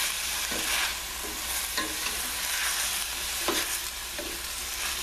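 Fish sizzles in a hot pan, a constant moderate frying hiss broken by a few sharp stirring or scraping knocks, with no one talking.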